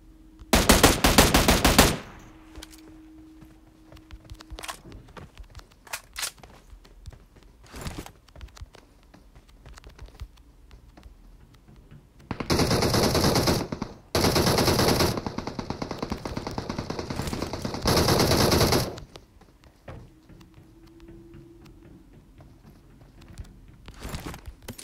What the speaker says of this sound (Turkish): Bak bak bak, o ona sıkıyor, ben de ona sıkacağım şimdi buradan.